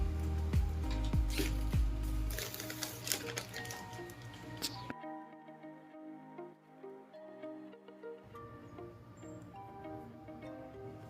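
Raisins frying in hot ghee in a pan after cashews, for carrot halwa: a dense crackling sizzle with loud pops at first, then a quieter, steady spattering hiss with a brief near-silent gap midway.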